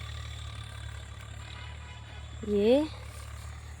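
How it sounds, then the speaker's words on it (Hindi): A tractor engine idles in farm fields as a steady low drone underneath. A voice speaks briefly over it partway through. "खेत खलियान ट्रैक्टर की आवाज़ आपको सुनाई पड़ रही होगी।"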